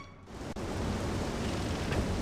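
Steady rain in the Zelda Skyward Sword game, a continuous broadband hiss of falling water with a brief soft thud near the start, holding at an even level with no voices.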